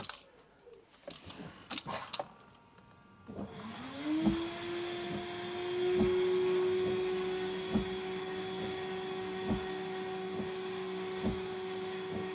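A Jaguar XK8 windscreen washer pump runs to fill the washer system, a steady close motor whine that starts after a few light clicks and holds evenly for about nine seconds.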